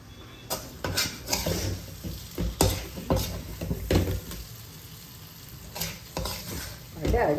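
Spicy brinjal thokku with Kashmiri chili powder cooks in a pan, a steady sizzle broken by repeated scraping stirs of a spoon against the metal, close and moderately loud, with no talking.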